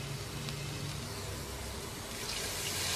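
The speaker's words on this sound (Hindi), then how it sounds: "पानी शामिल करेंगे हस्बे ज़रूरत।" Water poured into a cooking pot holding lentils, garlic-ginger paste, crushed red chilli, salt and turmeric for Pakistani-style chicken haleem, a steady close rushing splash throughout with no talk.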